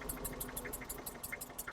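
An old tractor in excellent condition idles with a faint, steady low chugging and evenly spaced rhythmic pulses, heard alone and not very loud.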